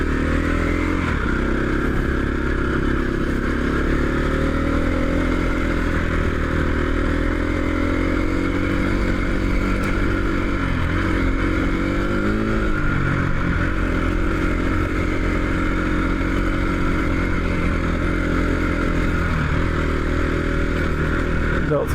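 Several motorcycles ride in a group on a Yorkshire Dales road, their engines a steady, loud, continuous drone with wind rush from close behind the bikes in front, and occasional rises in revs.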